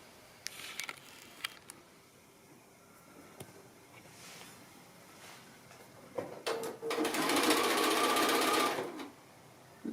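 A sewing machine joins the rows of a quilt block. A few light clicks come first, then a loud, steady whirring stitch run lasts about three seconds, close by, before it stops.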